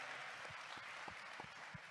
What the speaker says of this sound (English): You all give yourselves a round of applause for being here